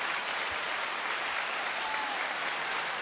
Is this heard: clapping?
yes